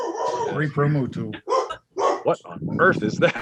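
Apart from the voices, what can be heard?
dog barking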